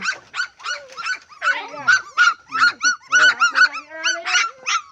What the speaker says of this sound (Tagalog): Ito yung mga aso